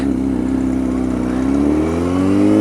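A motorcycle engine revs loudly and close by, its throaty drone rising steadily in pitch over a couple of seconds.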